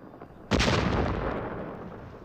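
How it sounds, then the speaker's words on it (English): Black powder blasts through railroad cuts in the foothills: one sudden deep boom at about half a second, then a long rumbling decay, with nothing before it but a quiet background. "armed the Chinese with black powder to blast their way through"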